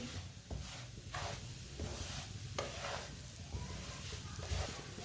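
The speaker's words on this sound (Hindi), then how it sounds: "आप इसे हल्का सा ब्राउन कर लेंगे सूजी को। इस ऐसे चम्मच चलाते हुए ब्राउन करना" A spoon scrapes and stirs semolina roasting in a pan over medium heat, repeated soft scraping strokes over a faint dry sizzle, close up with no talking.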